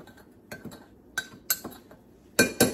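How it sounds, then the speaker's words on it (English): Strawberry jam fruit mixed with pectin being stirred in a pot, giving a series of light clinks and knocks from a spoon against the pot, close and intermittent, louder toward the end, with no talking. "Put it into the pectin. And I assume you're gonna stir it up. Stir it up a little bit."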